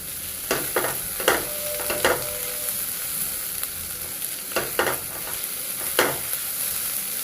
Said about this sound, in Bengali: আমি কিন্তু দেখেন ভালোভাবে ভেজে নিয়েছি।